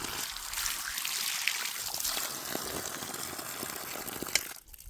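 Drinking water runs from an outdoor tap under pressure in a steady, hissing rush, close and even, before cutting off near the end.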